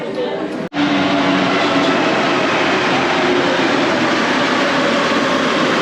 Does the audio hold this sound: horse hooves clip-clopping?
no